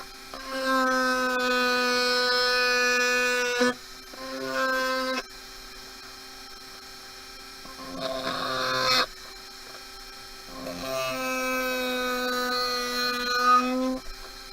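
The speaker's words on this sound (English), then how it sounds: "I have sanded along that whole strip there, just on the bezel part" A rotary tool sands the thin bezel strip of a beaded pendant, giving a steady high whine in several long bursts of a few seconds each with quieter gaps between.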